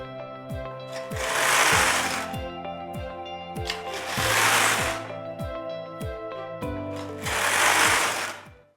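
A Singer Solo hand knitting machine knits a hat, its carriage sliding back and forth in three long rasping, whooshing passes, with a rapid rhythmic clicking and clacking of needles underneath.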